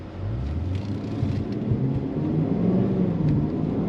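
A 2026 Cadillac CT5-V Blackwing engine pulls in first gear with a steady, deep low rumble that rises slightly as it accelerates, heard from inside the car without speech.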